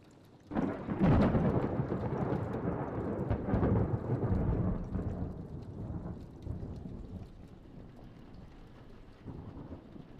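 A horror video game thunderstorm opens with a sudden close thunderclap that rolls on under steady pouring rain, fading gradually to softer rain with a later low rumble.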